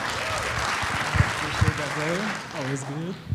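A conference audience applauding at a closing keynote, a brief patter of clapping heard under a speaking voice that carries through most of the moment.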